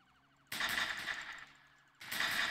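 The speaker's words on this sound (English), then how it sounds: "Further shots fired." Gunfire in a Roblox ERLC police game, two loud sustained bursts of shots that start abruptly, close and harsh, with a quiet pause between them and no talk.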